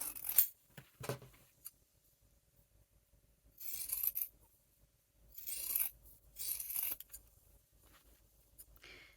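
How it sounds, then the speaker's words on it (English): Scissors snip fabric stocking seams, trimming them down by half; several short, close, crisp cuts in separate bursts with quiet pauses between. "now I will trim these seams in half"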